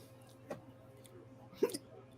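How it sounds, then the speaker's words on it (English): Two abrupt hiccups from a man on a live wrestling broadcast, spaced about a second apart, sharp and close over a quiet background hum. "No, I got the goddamn hiccups."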